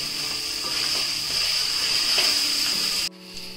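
Salt fish frying in oil in a pan, a steady close hiss and crackle that holds evenly and then cuts off abruptly near the end.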